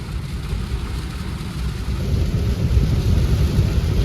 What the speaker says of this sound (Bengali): না বৃষ্টি নামবে তুমুল একটা, এই যে বৃষ্টি